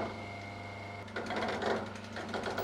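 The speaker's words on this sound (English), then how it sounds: "The gentle chatter of poppet firing also provides a kind of intuitive diagnostic tool." A digital hydraulic motor chatters steadily as its poppet valves fire in a fast, close, mechanical rattle that grows slightly louder and busier midway, with no voices.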